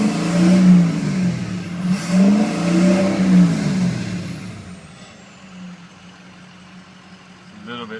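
A car engine with its exhaust disconnected and a suspected clogged catalytic converter revs loudly in two rising bursts, then drops back to a rough idle.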